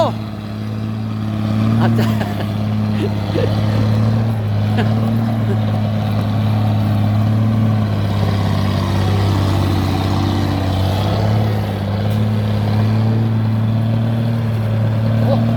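An Isuzu FN527 ten-wheel dump truck without a turbo works up a steep slope at an earth pit, its loud, low diesel drone sustained throughout as it changes gear.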